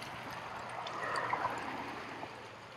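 Yellow mineral-tinted water flowing in a stream in Colorado or Utah, a steady soft trickling and pouring wash, fairly quiet and close, with no talk over it.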